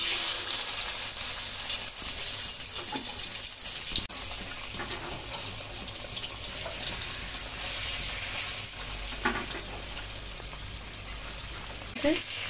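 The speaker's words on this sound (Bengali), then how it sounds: "কড়াইতে তেল গরম হয়ে গেছে, এবারে একটা একটা করে মাছ দিয়ে দেব।" Pomfret fish frying in hot oil in a wok for a mustard-paste curry: a dense, steady sizzle and crackle runs throughout, with louder spitting bursts now and then.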